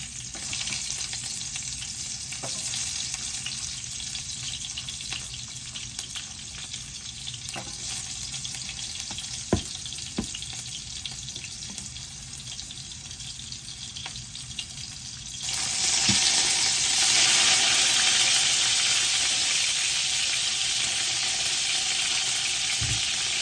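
Garlic and spices, fenugreek, mustard seed and fennel among them, frying in hot oil for a brinjal and tomato curry, a steady close sizzle that grows louder and brighter partway through as more goes into the pan, with a few faint clicks.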